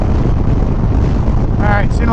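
Strong wind buffets the microphone outdoors, a loud, continuous low roar and rumble filling the whole moment, with no clear speech.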